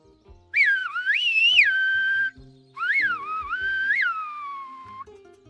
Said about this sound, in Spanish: Yo silbo con todos los dedos, yo te puedo silbar con todos